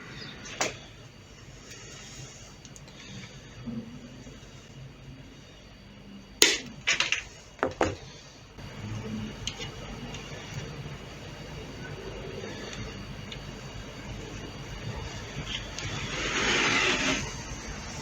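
Guitar frets being cut and pressed into a neck during a Viper guitar build: a quick burst of sharp snaps and clicks in the middle, over a quiet workshop hiss with no voices.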